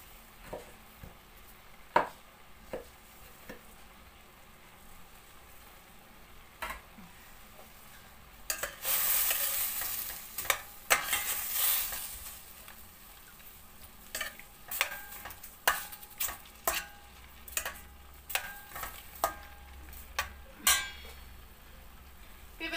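Chopped onions fry in a pan for a chicken dinner, with a soft steady sizzle under scattered sharp clicks and scrapes of a spoon stirring against the pan, close by and without talk.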